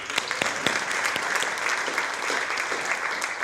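An audience at a community forum applauds, a dense even patter of many hands clapping steadily for a few seconds, moderately loud and without speech.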